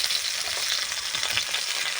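Chopped cauliflower frying in a pan for khichuri gives a steady, close, dense sizzle that holds at an even level throughout, with no talking.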